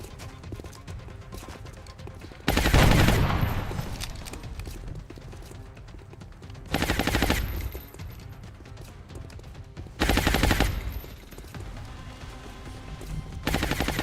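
Automatic gunfire in the XCOM video game, heard as four loud bursts of a second or so each, evenly spaced over steady background game music and ambience.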